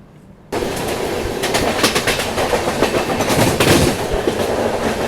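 The Pushpak Express running on the line near Bhusaval toward Khandwa, a loud, continuous rumble with rhythmic clickety-clack of wheels over rail joints, heard from on board, starting abruptly after a brief quiet moment.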